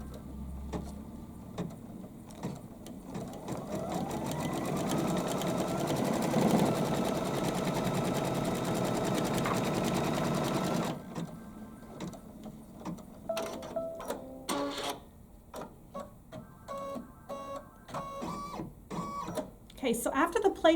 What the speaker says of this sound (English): The first thing we're going to do is sew our placement line.